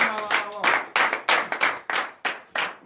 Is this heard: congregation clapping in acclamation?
yes